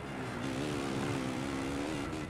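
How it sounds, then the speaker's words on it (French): A motocross bike engine in the video game MXGP The Official Videogame on PS4 drones steadily, its pitch wavering slightly as it revs, with a buzzy electronic quality and no talking. "je me la ferme un petit peu pour écouter le son du moteur de la moto"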